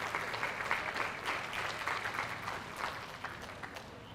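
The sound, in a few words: audience applause at livestock show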